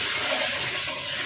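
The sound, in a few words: water being poured into a pot of cooking goat meat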